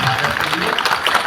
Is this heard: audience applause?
yes